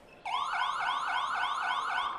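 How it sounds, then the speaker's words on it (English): A loud electronic half-time siren at an Australian handball championship final cuts in abruptly and wails in rapid repeating upward sweeps, steady and continuous with no talk over it. "Siren has gone, waiting for the reset of the clock."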